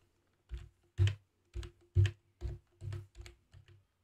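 Text is typed on a computer keyboard: about nine separate, fairly soft keystrokes tap out in an uneven rhythm against a quiet background, with no voices.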